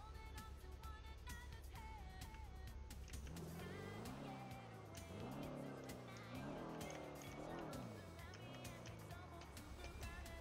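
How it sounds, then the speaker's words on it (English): A car speeds by in a video game roleplay server, its engine tone rising and falling in sweeping pitch bends over a steady loud rumble, with tire noise mixed in. "Is that car speeding?"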